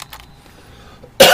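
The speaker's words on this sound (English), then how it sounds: "I am so sorry about these coughs in the microphone" A single loud, abrupt cough lands right on the microphone at the very end, after a near-silent moment.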